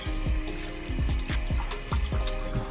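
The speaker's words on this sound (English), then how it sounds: "Rinse it off." A cleaned stocked trout is rinsed under running tap water, with a steady close stream broken by repeated splashing spurts as the fish is moved through the flow.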